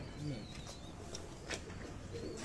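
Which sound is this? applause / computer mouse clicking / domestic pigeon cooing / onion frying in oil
domestic pigeon cooing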